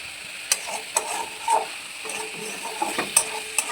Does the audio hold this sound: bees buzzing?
no